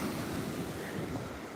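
Ocean waves rolling onto a beach, a steady broad wash of surf with wind buffeting the microphone throughout, continuous and fairly close with no talking.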